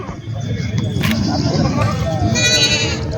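A native village goat at a goat market in Parbhani district gives a bleat over the busy babble of people talking nearby.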